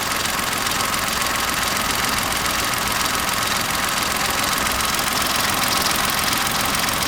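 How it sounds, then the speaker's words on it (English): A Kia Picanto engine running with a bearing fault, giving a loud, steady, dense mechanical hum and whir with an even rattling texture throughout, heard close up with no voices. "It doesn't sound like a chain rattle or nothing, it sounds like a bearing."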